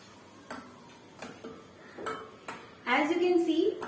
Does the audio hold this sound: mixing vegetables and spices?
yes